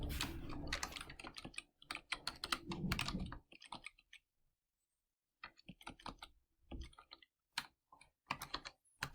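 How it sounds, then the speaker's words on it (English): Typing a math problem into Wolfram Alpha on a computer keyboard, rapid clattering keystrokes in close bursts separated by a pause of silence, no talking. "Just going to type this problem in Wolfram Alpha."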